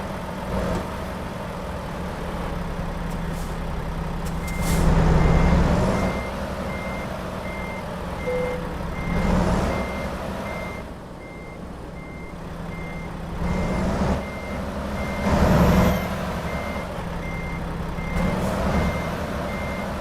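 A truck reverses with regular electronic backup beeps repeating every few seconds over a steady idling engine rumble and occasional louder mechanical surges, close by.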